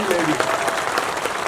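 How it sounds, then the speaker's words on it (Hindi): Audience applauding loudly for schoolgirls at a Saraswati puja event at a government girls' college in Ladnun, a steady dense clapping that fills the whole moment. "सब लोग एक बार जोरदार तालियां बच्चियां के लिए बजाओ"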